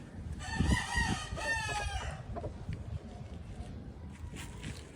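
A rooster crows loudly nearby in one long call, followed by scattered clucking from chickens as the flock is given fresh water at midday.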